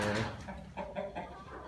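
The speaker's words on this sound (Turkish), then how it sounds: "İki tane ispenç horozumuz var. iki tane de tavuğumuz var." Chickens in a backyard coop, two İspenç roosters and two hens, give a few short clucking calls in quick succession, close and clear with no talking.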